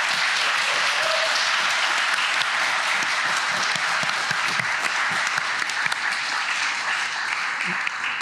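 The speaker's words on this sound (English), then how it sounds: "let's give our panelists a round of applause" An audience applauds the panelists after a discussion, even and sustained clapping at a fairly loud level across the whole stretch, with a few faint voices mixed in.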